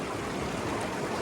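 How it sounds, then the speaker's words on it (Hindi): Fast-flowing Amlong river water rushes in a dense, steady broadband roar close by, loud and unbroken for the whole short moment with no voices. "पानी का फोर्स बहुत तेजी है"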